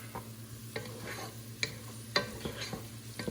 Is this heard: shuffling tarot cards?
no